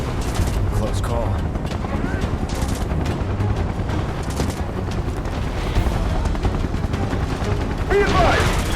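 Gunfire from a Final Fantasy VII Remake battle, dense bursts of shots and booms running steadily throughout under in-game shouting and a whirring helicopter-like drone.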